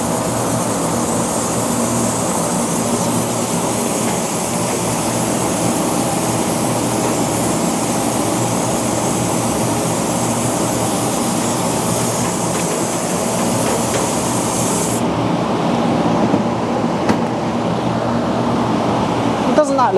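A steady, loud hiss of spray paint runs without a break as a machined outdoor light fixture is sprayed green, with a dense broadband roar filling the whole stretch.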